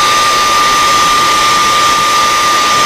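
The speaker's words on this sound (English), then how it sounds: "I am going to give this a heat set" A heat gun blows a loud, steady hot-air roar across wet paint on a cutthroat trout fishing lure, constant and unbroken from start to finish, with no voices.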